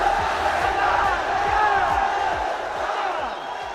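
Loud roaring crowd with shouts and whoops as Jayson Shaw wins the pool final at the 2023 Hanoi Open Pool Championship in Vietnam, a dense sustained cheer with individual voices rising out of it.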